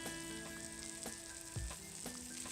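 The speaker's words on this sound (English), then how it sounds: "let that fry up for a few minutes" Veal frying in a pan for veal parmesan, a steady soft sizzle and crackle with a few small taps of the pan, close but quiet, with no talking.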